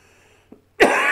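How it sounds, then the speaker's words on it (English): A single loud, harsh cough bursts out near the end, close to the microphone, after a quiet stretch with a faint brief throat sound. "Hopefully this cough will"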